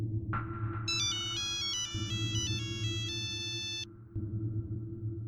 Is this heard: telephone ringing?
yes